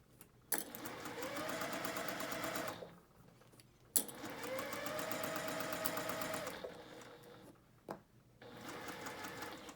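Sewing machine stitching fabric for a girl's headband at a quarter-inch seam, running in two long bursts with brief pauses and back-stitches between them, loud and close.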